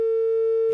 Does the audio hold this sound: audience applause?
no